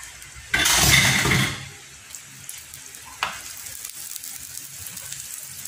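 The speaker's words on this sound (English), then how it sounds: "So we add butter in this one." Butter dropped into a hot pan for garlic shrimp gives a loud burst of sizzling for about a second, then settles into a quieter, steady crackle as it melts, with a brief clatter partway through.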